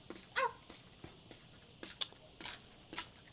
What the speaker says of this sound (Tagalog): Aba, may aso.